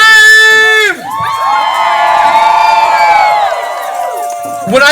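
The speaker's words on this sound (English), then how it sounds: "Now somebody scream." A large rally crowd screams and cheers in one loud, sustained roar lasting several seconds, high shrieks and whoops layered throughout, before it drops away near the end.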